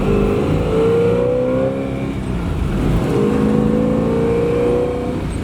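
A 1969 Camaro Z28 with a 302 V8 and chambered exhaust, no catalytic converters, revs loudly and close, its engine note rising and falling in two long sweeps with a raspy, rumbling tone throughout.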